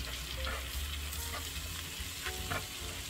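Butter and all-purpose flour cooking together as a roux in a pan, a steady soft sizzle with faint stirring scrapes, close and alone.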